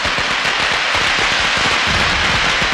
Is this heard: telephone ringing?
no